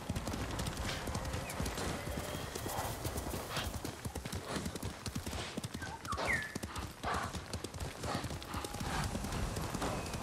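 A horse gallops in the video game Ghost of Tsushima, with rapid, continuous hoofbeats pounding close and loud throughout, plus a brief whinny-like cry near the middle.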